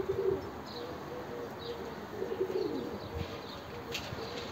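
Soft, low cooing from pigeons at a rooftop loft, repeated in a few faint phrases with scattered chirps and light background noise.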